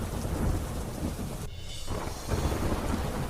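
Heavy monsoon rain pours in a dense, steady hiss while a thunder rumble rolls through near the middle, leaving a brief dip before the downpour surges back.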